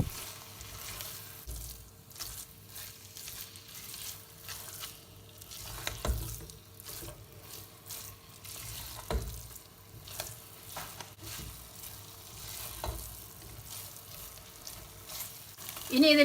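Ada being roasted in ghee in a pan for adapradhaman, a faint crackling fry with intermittent soft stirring scrapes, close and quiet throughout.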